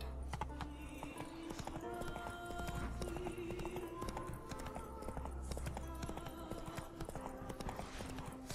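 Rapid, overlapping clip-clop of several horses' hooves on a road in The Witcher 3, with a brief whinny amid game music and ambience.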